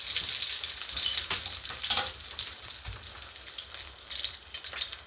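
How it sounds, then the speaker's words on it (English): Steady sizzling of curry frying in a pan, a continuous crackling hiss with occasional stirring scrapes, close and moderately loud, no voices. "we're gonna let the curry fried out for about good 2-3 minutes"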